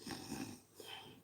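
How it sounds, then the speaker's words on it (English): A pet asleep on the arm of a sofa snores softly, two faint, close, rasping breaths with a short gap between them, heard alone with no talk. "she's snoring her head off."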